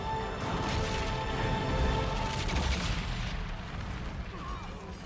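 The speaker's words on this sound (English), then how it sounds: "Just a small explosion." A small explosion in the video game Dragon Age Inquisition, a dense rumbling burst with crackling debris that carries on steadily for several seconds before fading slightly, mixed with game sound effects.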